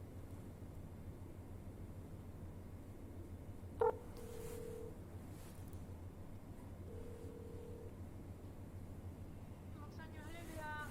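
Short telephone keypad dialing tones beep out during a phone call, faint against a low background hum.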